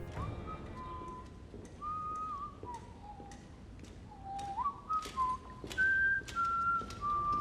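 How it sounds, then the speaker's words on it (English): A man whistles a slow, wandering melody, clear and fairly quiet, with faint ticking clicks scattered underneath. "when Tyrion can be heard whistling it"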